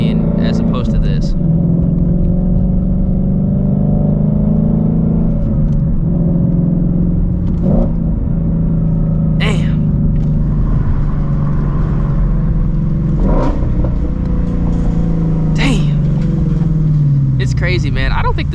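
A Ford Shelby GT350 V8 engine drones and revs through hard pulls with no-lift shifts, a loud in-cabin rumble with rising and falling pitch and brief shift breaks, while someone talks over much of it.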